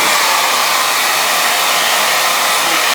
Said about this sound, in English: I'm gonna just take a blow dryer and just kind of blow dry them